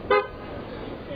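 At a street protest in Portland, Oregon, a car horn gives one short toot, bright and fairly close, followed by a low hum of traffic and crowd.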